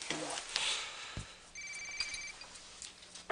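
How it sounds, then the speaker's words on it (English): A mobile phone rings somewhere in a room, giving a brief electronic ring tone in a couple of short bursts over faint room noise and soft movement. "That sounds like Lizzie's phone"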